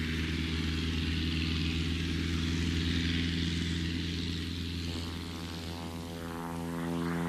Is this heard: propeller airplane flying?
yes